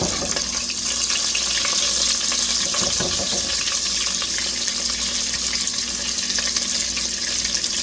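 Butter sizzles in a hot pan after chicken has been cooked and removed, a steady broadband hiss and crackle running without pause, close and fairly loud, with no talking.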